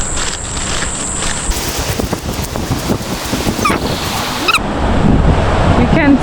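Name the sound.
waves on the beach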